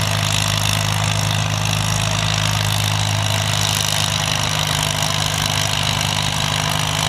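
A tractor competing at a 4-H tractor pull runs steadily in low gear, its engine a loud, continuous drone throughout with no breaks.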